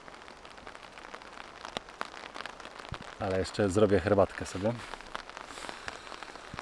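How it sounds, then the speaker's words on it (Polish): Rain pattering steadily on a tarp shelter outdoors, a soft continuous patter heard close by, with someone speaking briefly over it midway. "siedzenie pod tarpem w deszczu"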